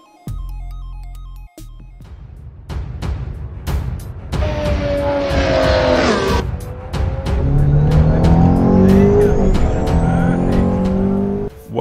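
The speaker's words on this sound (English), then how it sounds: "This is the 2018 McLaren Senna mod for Assetto Corsa" A 2018 McLaren Senna in Assetto Corsa at Spa, engine revving up through rising and falling gear shifts, with tire squeal and loud sustained acceleration after a brief electronic menu tone at the start.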